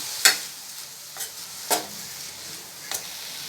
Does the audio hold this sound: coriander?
yes